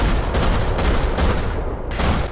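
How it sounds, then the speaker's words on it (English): Dense rattling gunfire fills a parking lot in the video game Max Payne 3: loud, continuous bursts of automatic fire with heavy booms and no pauses. "Another parking lot rattling with gunfire."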